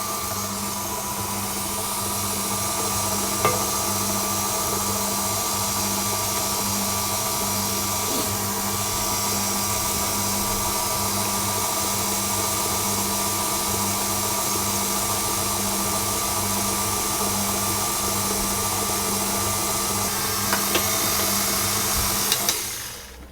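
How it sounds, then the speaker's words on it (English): An electric mixer on low speed whisks eggs into a butter mixture for a lemon cake, giving a steady, even motor whine that runs unbroken and close for the whole stretch, with a few faint clicks near the end. "I'm going to add that into the butter mixture gradually, whisking it on a low speed all the time until it's fully"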